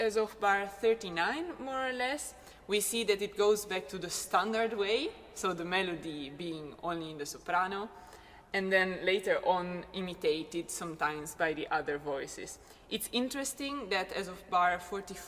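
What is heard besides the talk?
None of the usual background noises is heard.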